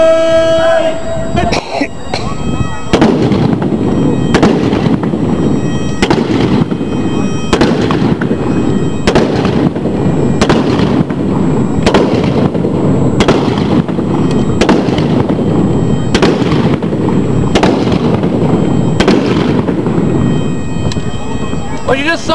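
A line of soldiers fires muskets in an independent fire drill at Halifax Citadel, producing a long series of sharp cracks, roughly one every second, loud and steady for about twenty seconds after a brief shouted command.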